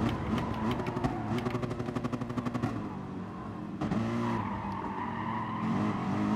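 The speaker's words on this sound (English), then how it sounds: "It might be a Ferrari. Because I remember Ferraris still sound a bit like that." Ferrari race car in Gran Turismo Sport, its engine revving with a rapid pulsing rasp, then a shift and renewed high-pitched roar, loud and close with a hint of tire squeal.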